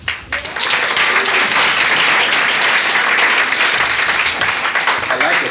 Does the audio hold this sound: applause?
yes